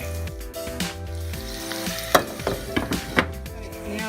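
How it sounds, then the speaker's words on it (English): Seasoned potatoes for home fries sizzle steadily in a pan, with a few sharp scraping stirs and clicks of a utensil breaking through the continuous frying hiss. "let it fry"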